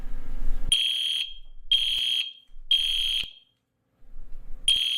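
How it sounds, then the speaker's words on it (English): Fire alarm sounding indoors, four loud shrill electronic beeps in a steady on-off pattern with short silent gaps between them, no talking. "loud noises like the fire alarm"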